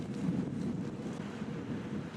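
Wind blows across a disc golf course during a tournament round, a steady loud low rumble buffeting the microphone with no pause and no talking.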